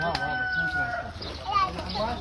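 Young Sudanese poultry chicks, first-line birds recovering from disease, cluck and peep in a farmyard with some crowing, while people talk nearby over the birds.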